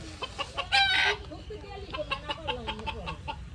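Domestic chickens cluck in a rural village yard, a burst of loud clucking and squawking followed by softer repeated clucks, with people talking nearby.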